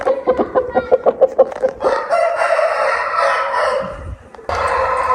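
A rooster kept among hens crows loudly and close by after a short run of rhythmic clucks, its long drawn call followed by another burst of crowing.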